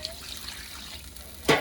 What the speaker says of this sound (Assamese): এতিয়া আমি গৰম পানীটো দি দিম